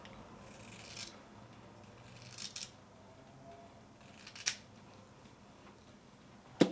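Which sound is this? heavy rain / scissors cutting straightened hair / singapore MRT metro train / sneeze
scissors cutting straightened hair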